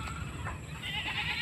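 Goats bleat close by on a farm, in a continuous nasal cry that swells toward the end.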